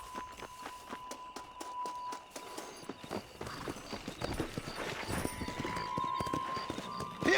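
Horse hooves clip-clop at a galloping pace in the Western video game Red Dead Redemption, a steady, rapid rhythm running throughout under game ambience.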